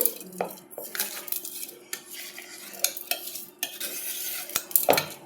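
Coconut podi ingredients are stirred in a pan with a spoon, giving a steady dry scraping and rustling broken by sharp metal clinks against the pan, close and fairly loud, with no voices.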